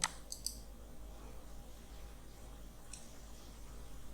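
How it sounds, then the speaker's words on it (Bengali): Sharp computer mouse clicks while working in a Blogger admin panel, a quick cluster of two or three at the start and one more near the end, close and fairly quiet over faint room hum. "এখানে গিয়ে আমরা নিউ পোস্ট এখানে ক্লিক করব"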